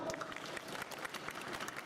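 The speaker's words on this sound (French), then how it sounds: "Allez, applaudissements." Brief, fairly faint clapping from a crowd in front of a stage at the Japan Expo convention, a scattered patter of hands with a murmur of voices behind it.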